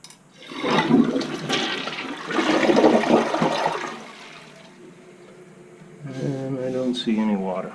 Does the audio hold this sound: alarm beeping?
no